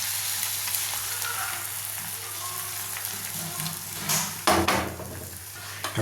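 Beaten egg fries in oil in a pan for a bread omelette, giving a steady close sizzle with a brief scrape and clatter of stirring near the end.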